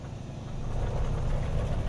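The left radial engine of a Beechcraft 18 in Microsoft Flight Simulator 2020 cranks and catches, a low rough rumble that builds and steadies into a loud, even drone.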